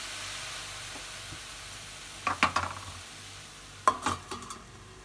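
Tomato and coconut chutney with a little salt sautés in a pan, a faint low sizzle broken by two clusters of close spatula scrapes and clinks against the metal.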